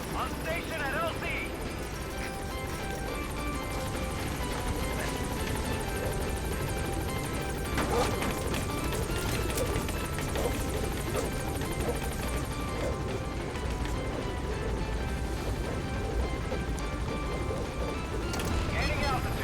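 The B-Quad helicopter from Metal Gear Solid V comes in to a landing zone with a continuous rotor thrum and a busy whine of engine, mixed with game effects, while voices speak over it.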